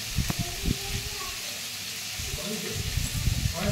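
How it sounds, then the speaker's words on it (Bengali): Pumpkin slices fry in a pan on a gas burner, giving a steady close sizzle and hiss with scattered pops and crackles, and a voice speaks faintly underneath. "আর এখানে দেব একটুখানি মানে কুমড়ো ভাজা, এটা আমার মেয়ের জন্য করছি।"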